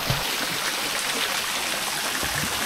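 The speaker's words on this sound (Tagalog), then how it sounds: "Ang ganda dito kasi meron pa waterfalls na setup" Artificial waterfall pouring into a cement kiddie pool at Enchanted Cave in Patar, Bolinao, Pangasinan, a steady close rushing splash that runs unbroken throughout.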